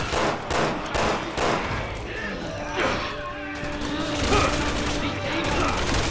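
Rapid gunfire and crashing impacts in Resident Evil 6, arriving in repeated bursts over a cluttered game mix, with a voice talking through parts of it.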